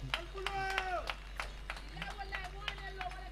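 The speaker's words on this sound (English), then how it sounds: "Please give him one more round of applause" Sparse, uneven claps from a small audience greet President Adama Barrow at a clinical waste treatment centre launch, a dozen or so sharp hand strikes spread out, faint, mixed with voices and a low hum.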